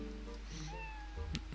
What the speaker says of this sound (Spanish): Mira el gato. Hola, gato.